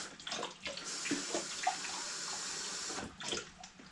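Tap water runs steadily into a kitchen sink during baking prep, a continuous bright splashing stream with small clinks at the start and end.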